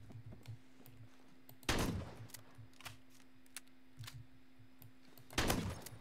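An M79 Thumper grenade launcher firing in the Phantom Forces video game, two loud, heavy thumping blasts a few seconds apart, each with a short rumbling tail, over quieter background game noise.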